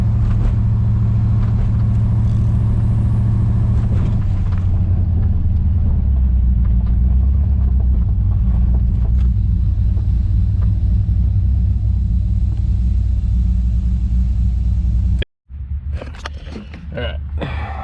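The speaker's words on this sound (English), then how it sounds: "it was our final drive in the LS1 RX7 on Holley Terminator" An LS1 V8-swapped 1992 Mazda RX-7 FD running on a Holley Terminator rumbles steadily from inside the car as it drives. The low engine drone is loud and continuous, cuts out briefly near the end and then returns.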